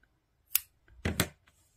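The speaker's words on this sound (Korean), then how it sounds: "여기를 바짝 잘라주세요." Scissors snipping knitting yarn close to the knot: two or three quick, crisp close-up cuts in an otherwise quiet room.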